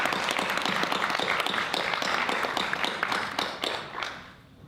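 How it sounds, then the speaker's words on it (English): A roomful of people gives a hearty round of applause for town council members and the town manager at a local gathering. The brisk, dense clapping holds steady, then thins and fades away over the last second. "I think these folks deserve a resounding round of applause."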